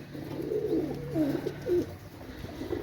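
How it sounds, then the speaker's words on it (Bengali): A pair of Dabla pigeons coo close by, several low rolling coos in quick succession over a faint background hum. "একজোড়া ডাবলা কবুতর মাশাআল্লাহ।"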